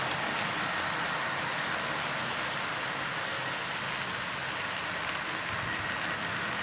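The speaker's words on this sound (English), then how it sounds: "Let's see them cross over. Two West Country class locos." Two Tri-ang model West Country class locomotives run on a model railway layout, giving a steady, dense whirring rumble that holds at an even loudness throughout, with no distinct clicks or pauses.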